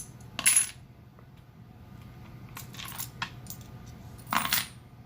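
Junk silver coins drop and clink together in two sharp jingling bursts with a quieter rattle between them, close and crisp over a faint background hum.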